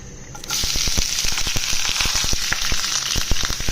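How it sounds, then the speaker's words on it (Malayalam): Ingredients sautéing in hot coconut oil in a pan for a sweet potato snack, a loud bright close sizzle that flares up at once and is studded with rapid crackling pops. "സാധനങ്ങളൊക്കെ ഇട്ട് ഒന്ന് വഴറ്റിയെടുക്കണം"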